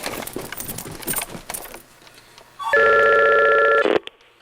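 A home telephone rings once with a loud, sustained electronic trill, cutting in after a stretch of quieter background clatter and ending abruptly.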